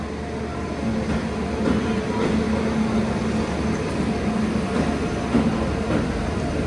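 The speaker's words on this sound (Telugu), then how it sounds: "అటుపక్క నుంచి ఏదో ట్రైన్ వస్తుంది, వల్సట్ లోకోమోటివ్." An Indian Railways train hauled by a Valsad-shed locomotive passing on a parallel track, heard from inside a moving carriage as a steady, broad rumble of wheels and rails that holds at an even level throughout.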